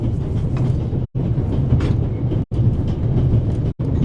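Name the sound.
train running on rails in The Raven video game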